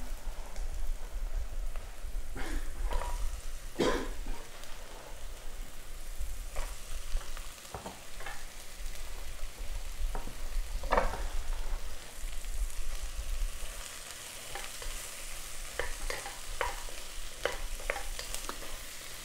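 Cauliflower cooks in oil in a pan, producing a steady, crackling sizzle like light rain, with occasional clinks and scrapes of stirring throughout.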